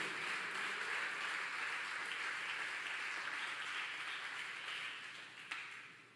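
A church congregation claps together during a sermon, a soft, distant wash of applause that stays even for several seconds before thinning out, with one sharp tap near the end.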